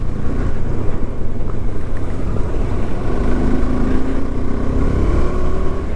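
A motorcycle engine pulls hard under acceleration while riding, a steady, loud drone with a rising tone toward the end and continuous wind and road rumble.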